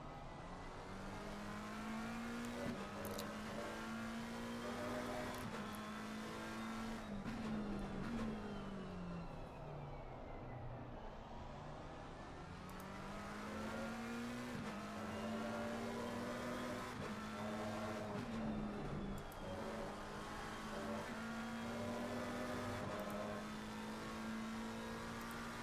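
GT3 race cars, including a Ferrari and a McLaren, roar through an endurance race at Valencia in a racing video game, engines revving and shifting up and down in repeated sweeps, loud and continuous with no talk.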